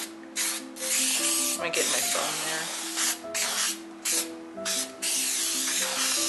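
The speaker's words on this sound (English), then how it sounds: "And then you spray half at a time." Plywood garage cabinet face frames are spray painted in a series of short, close, hissing bursts, with a person talking between them.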